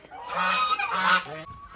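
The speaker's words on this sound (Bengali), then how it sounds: "এই যে আমার হাঁসগুলো" Ducks kept on a rural Bangladeshi homestead farm give loud, close, repeated honking quacks in two long bursts, with a shorter call at the end.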